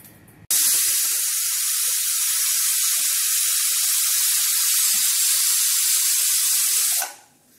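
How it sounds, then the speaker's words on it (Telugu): A pressure cooker of foxtail millet pulav lets out one long, steady, loud steam hiss for several seconds, cutting in sharply and fading away at the end. "సో ఒక 3 విజిల్స్ వచ్చాయి"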